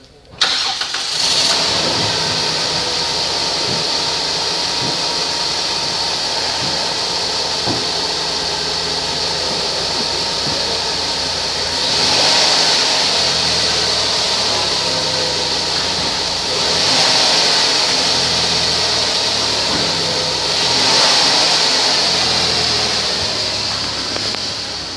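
A 2006 Dodge Grand Caravan with 125,633 miles on it runs at a steady idle throughout, with the engine note swelling slightly a few times. No one speaks.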